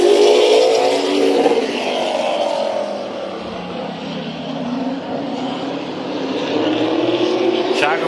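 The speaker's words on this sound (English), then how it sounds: "So Shackelford and Bragdon bringing the field to the green for the late model dash here at Orange Show." Late model race cars roar together at Orange Show Speedway as the field takes the green for a dash, a loud, continuous engine drone that rises and shifts in pitch while a commentator talks over it.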